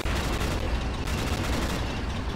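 Coaxial machine gun on an armoured vehicle firing in a military combat video game, a dense unbroken roar of gunfire with booming low rumble filling the whole stretch, loud and close.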